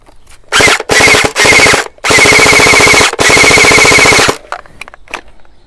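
A Gelbee Stormburst gel blaster fires in five rapid bursts of dense, loud, buzzing full-auto shots separated by short pauses, close to the recording point.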